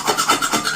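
A kadai being scrubbed clean by hand, rapid rhythmic scouring strokes, close and fairly loud, about four back-and-forth rubs in quick succession.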